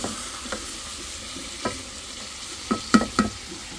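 Fish fries in a hot pan with a low steady sizzle, punctuated by a few sharper clinks and scrapes of stirring near the end, with no talking.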